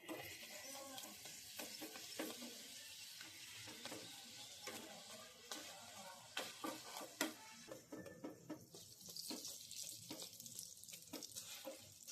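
Dal paratha frying in melted butter and oil, a faint sizzle with scattered crackles and stirring scrapes, sporadic clicks of a utensil against the pan, no talk.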